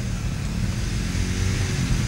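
Vehicles move in one-sided traffic along the Mussoorie highway, where a landslide has caved in the road; a steady, close engine and tyre rumble runs throughout with no speech.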